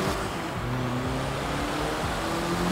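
Mercedes CLK GTR race car engine in Forza Horizon 4, a continuous low engine drone with shifting tonal lines as revs rise and fall, steady and close.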